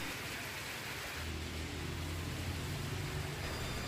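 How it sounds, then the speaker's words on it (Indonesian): Heavy rain pouring steadily in Sampit, a dense, even hiss of water with a low rumble beneath, no voices. "Hujan terjadi dalam waktu cukup lama sejak pukul 3 hingga 5 sore."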